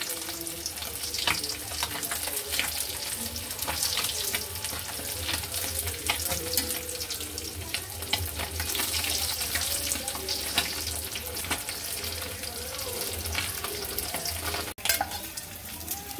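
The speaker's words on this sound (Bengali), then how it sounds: "মাছগুলো কিন্তু ভাজা হয়ে গেছে প্রায়।" Sarpunti fish frying in hot oil, a dense, continuous close sizzle and crackle with scattered pops, steady throughout apart from a brief knock near the end.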